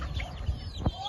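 Farm chickens give a few short, close clucks within a second, faint against quiet background noise.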